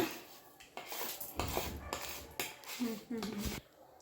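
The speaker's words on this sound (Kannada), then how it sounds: "ಇದು ತುಪ್ಪ ಬಿಸಿ ಆದಮೇಲೆ ಶಾವಿಗೆ ಹಾಕ್ಕೋಬೇಕು." Vermicelli tipped into hot ghee in a pan, giving a few clattering, clinking utensil-on-pan sounds and some sizzle, close up and moderately loud with breaks between the bursts.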